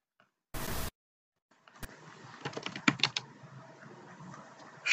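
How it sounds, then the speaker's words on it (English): Commands typed on a computer keyboard in a Kali Linux terminal, a noise burst first, then a run of quick, close key clicks at irregular pace, with no voices. "We have to just type"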